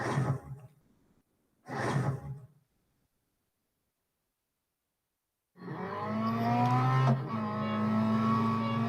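Race car engine in the Real Racing 3 mobile game, entering after a stretch of silence as a sustained loud roar with rising revving tones, preceded by two short engine bursts at the start.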